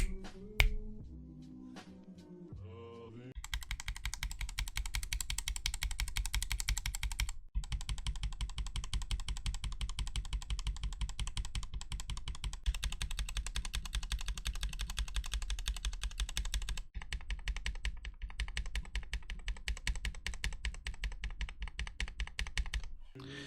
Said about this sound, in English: a Gateron yellow lubed with Krytox 205 grade 0, a stock Texie Ice Candy, and a Texie Ice Candy lubed with Krytox 205 grade 0